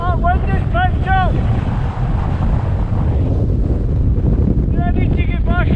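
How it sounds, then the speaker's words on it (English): Strong wind buffets the microphone on a hilltop in the Luss Hills of Scotland, a loud continuous low roar with brief tonal whistles near the start and end. "Oh, that wind is picked up."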